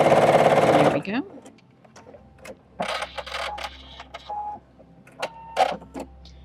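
Sewing machine stitching quilt fabric for a Valentine's quilt, a steady loud whir for the first second, then brief intermittent mechanical clicks and short bursts with handling noise.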